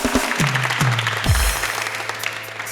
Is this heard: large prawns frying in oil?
no